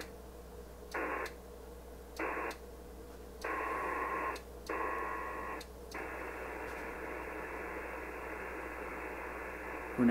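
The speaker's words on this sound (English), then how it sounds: "Now the modem and the radios will negotiate a disconnect." HF radio and modem signals negotiate a Winlink disconnect: short bursts of tonal data alternate with gaps over a steady static hiss, then give way to a long continuous transmission, fairly faint throughout.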